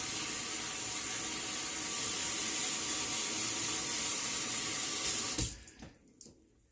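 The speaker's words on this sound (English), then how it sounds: "rinse off my hands, and then I'll rinse off the puck at this time." Tap water runs steadily into a sink, rinsing a shaving soap puck, a loud continuous hiss that cuts off abruptly, leaving a few faint drips and clatters.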